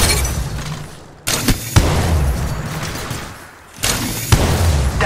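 Gunfire bursts in the mobile battle royale game Apex Legends Mobile, played from a first-person view on an iPad 9: loud, close volleys and booms come in two main clusters, with a quieter gap between them.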